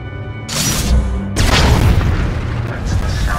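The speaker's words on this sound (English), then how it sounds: "That's the sound of my flux cannons incinerating one of your capital ships." Flux cannons in a Star Wars space battle blasting apart a capital ship: a deep, loud booming explosion that rumbles on and swells again in a second roaring blast.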